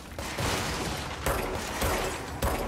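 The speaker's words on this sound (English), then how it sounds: "They're running right at you, firing." Enemy gunfire in the video game Control: dense, continuous bursts of shots loud in the foreground, with a few heavier impacts standing out, no talking.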